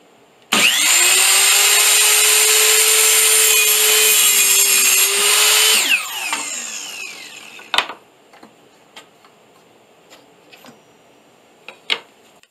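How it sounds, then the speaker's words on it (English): A miter saw cuts wooden frame pieces to size: one loud, close, high whining cut lasting about five seconds, then the blade winds down, followed by a few sharp knocks. "Next, I cut the pieces of the frame to size using my miter saw."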